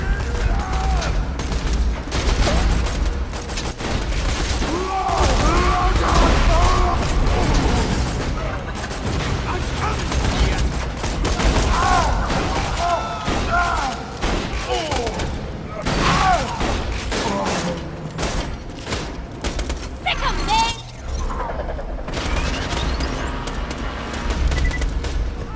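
Sustained gunfire while shooting in the video game Borderlands 2, rapid bursts and volleys running throughout amid thuds and game effects, with someone talking over it.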